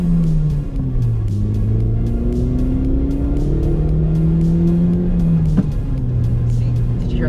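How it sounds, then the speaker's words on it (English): A Scion xB engine with about 197,000 miles hums and rises in pitch as it revs up, a loud steady drone from inside the vehicle with a brief click near the end. "let me rev it up for you a little bit"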